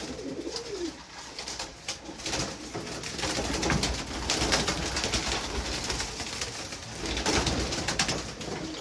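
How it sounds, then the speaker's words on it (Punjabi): Soft pigeon cooing repeats against a steady outdoor background hum, with occasional faint rustles; the calls are moderately close and low-pitched. "ਆ ਕਬੂਤਰੀ ਆ ਨੀਲੀ ਬੱਟੀ"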